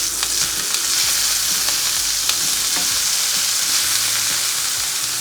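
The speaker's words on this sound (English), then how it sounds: "while they finish cooking, I'm going to toast my bun" A burger bun toasts in a hot pan beside burgers finishing for a homemade Philly cheese stack, giving a loud, even frying crackle with scattered sharp pops.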